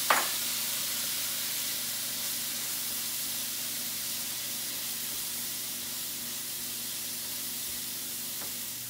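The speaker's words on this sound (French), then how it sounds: "On va déglacer avec notre vinaigre de vin blanc" A hot pan deglazed with white wine vinegar while cooking oysters Rockefeller, giving a steady, close, loud sizzling hiss that starts with a sharp burst and carries on evenly, with no talking.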